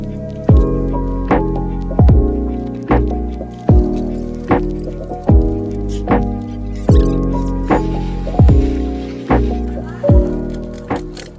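Brush scrubbing car tires and a wheel lathered with touchless car wash soap: steady, rhythmic wet strokes with squeaky, squelching pulls, close and fairly loud, repeating about once a second.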